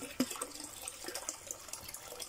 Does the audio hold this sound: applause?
no